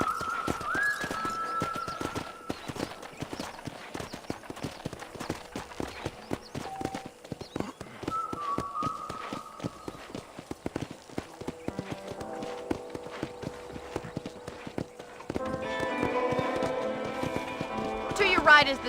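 Horse hooves clip-clopping at a quick, steady pace in the Red Dead Redemption video game, a constant rhythmic patter under a talking voice and faint music that swells near the end.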